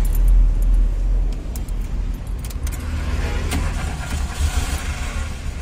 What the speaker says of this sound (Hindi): गाड़ी को हम करेंगे चालू